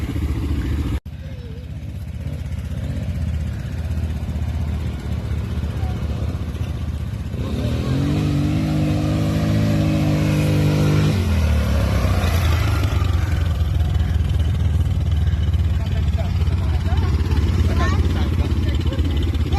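Quad bikes (ATVs) pull away outdoors with a loud, steady engine drone that swells as they rev up and drive off, with voices talking over the noise.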